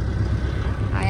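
A boat engine rumbles low and steady from on board as the boat moves along, with voices mixed in over the continuous drone.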